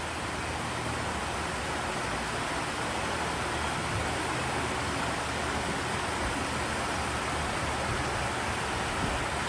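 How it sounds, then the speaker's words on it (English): Water flows at Magic Kingdom as a steady, even rush, like a fountain or waterfall, loud and continuous without a break. "That water, man. There's just something about that sound every single time."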